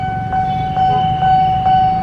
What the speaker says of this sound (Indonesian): Ada kereta melintas langsung jalur 1, jalur 2.